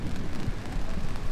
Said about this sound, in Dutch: Nu begint het weer volgens te regenen.